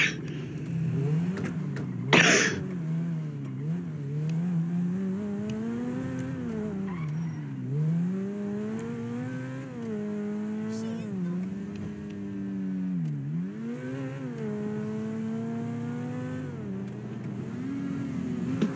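A video game car engine revs and drops repeatedly, its pitch rising and falling in sweeps, with a brief tire-squeal burst early on.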